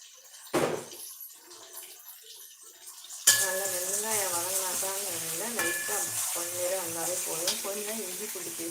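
Mint rice ingredients sautéing in a pan. A quiet start with a single clank gives way to a loud continuous sizzle with a melodic, voice-like tone running beneath it.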